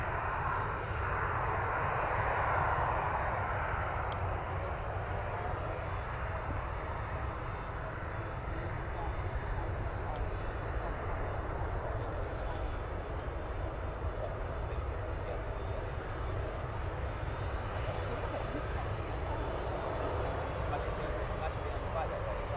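Aircraft engine roar at Manchester Airport during a busy morning with two runways in use, a steady broad rumble and whoosh that holds throughout, with a voice talking over it.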